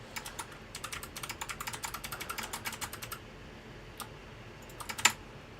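Someone types on a computer keyboard that has no ten-key pad. A quick, steady run of close key clicks is followed by a few scattered presses and one sharper tap near the end.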